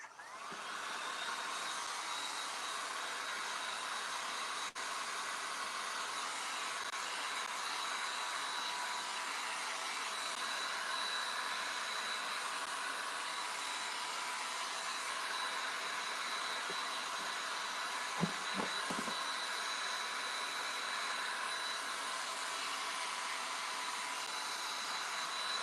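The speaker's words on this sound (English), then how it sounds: "forgive the dryer" A handheld dryer blows steadily over a flat surface coated in milk paint and gesso, a loud continuous whooshing drone that stays nearly constant throughout, with a brief knocking sound near the end and no voices.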